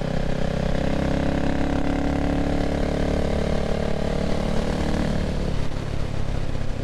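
A CCM Spitfire Six motorcycle engine drones steadily while riding at fairly low revs during running-in, a continuous loud hum with wind rush and no break, no talking.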